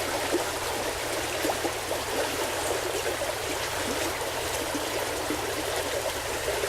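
A river near its spring-fed headwaters on a stretch of hiking trail through rolling moraine hills, a steady close rushing and trickling flow of water with no voices.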